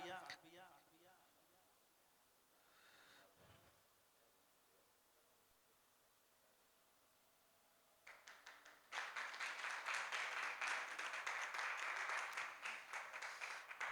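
Crowd applause at a Jain Gajrath festival gathering: quiet talk and low room noise give way to a loud, dense burst of many people clapping that swells about two-thirds of the way in and carries on to the end.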